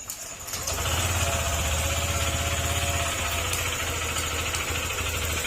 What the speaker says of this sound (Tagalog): Kapag ganyan yung narinig nyo sa motor nyo, ayan, sigunyal yung kanyang uh, problema.